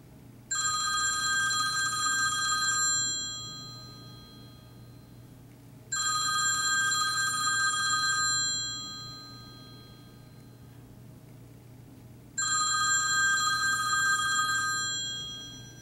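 A phone set to its loudest volume rings beside hermit crabs, three loud electronic ring bursts of about two to three seconds each, evenly spaced with quiet gaps and faint room hum between.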